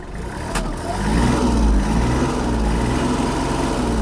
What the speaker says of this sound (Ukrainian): Давайте додам ще обертів і будемо глушити